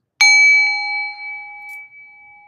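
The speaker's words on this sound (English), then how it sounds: "I'll ring the bell once more" A meditation bell is struck once, giving a clear, bright ring with pure sustained tones that fade slowly over two seconds in a quiet room.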